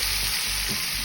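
Jamaican curry chicken cooks in a pot, giving a steady close sizzle and frying hiss that runs without a break through a brief moment, with no voices.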